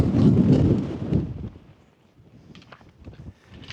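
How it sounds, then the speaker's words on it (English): Strong gusts of wind on a Scottish mountain top buffet the microphone in a loud low roar that eases after a second or so, leaving faint rustling and light tapping. "it's really windy"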